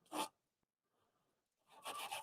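Two short bursts of hand sanding a wooden offset handle with sandpaper up to about 320 grit, a scratchy rasp of paper on wood, separated by a quiet pause with faint movement.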